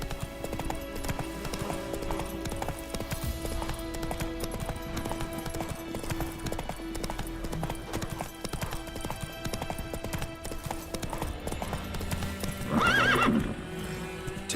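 Hooves of Roach, the horse in The Witcher 3 video game, clip-clop in a steady galloping rhythm over game ambience, with a short neigh near the end and no talking.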